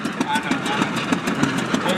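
Tractor engine running as tractors are driven around at a tractor parade, a steady idling chug with a regular low knock, close by, with people talking over it.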